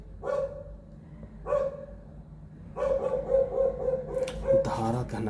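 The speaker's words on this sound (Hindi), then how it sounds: "कुत्ता भौंक रहा है" A dog barks in a series of loud, close yelps, first spaced out and then in quick succession, with a little background noise.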